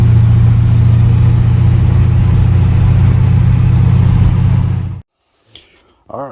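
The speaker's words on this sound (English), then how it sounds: "All right, the thing's idling and running great now" A Chevy C20 truck's 408 small block engine, built for boost, idles loudly and steadily with a deep rumble for about five seconds, then cuts off to near silence with a few faint clunks.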